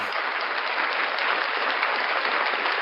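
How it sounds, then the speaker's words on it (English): Steady applause from a crowd, dense and continuous clapping with no pauses, fairly loud throughout. "another round of applause"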